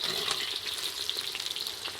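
Radish pieces fry in hot oil in a pan on a mud stove, giving a steady close crackling sizzle with small popping bursts throughout and no voices.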